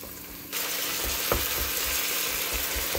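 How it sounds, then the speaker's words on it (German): Chopped onion frying in a pan while preparing lasagna, a steady, loud sizzle that starts abruptly after half a second and continues evenly throughout, with no talking. "Zwiebel anbraten."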